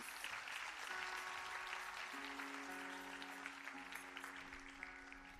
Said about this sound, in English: Can we have a louder round of applause, please?